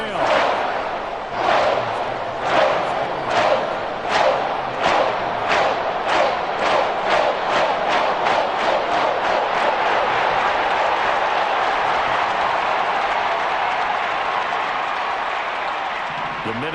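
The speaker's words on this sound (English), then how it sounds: "And this crowd has certainly liked what they've seen." A Minnesota Vikings home stadium crowd claps in unison, the rhythmic claps speeding up until they merge into a loud, sustained roar of cheering, with a commentator talking over it.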